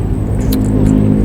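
A car rumbles past close by, a brief low roar of engine and road noise filling the moment.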